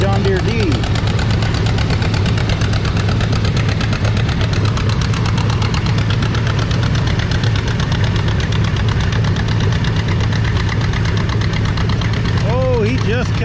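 A John Deere D tractor engine labors through a vintage tractor pull, its steady low chugging rumble sustained and loud throughout, with faint voices mixed in.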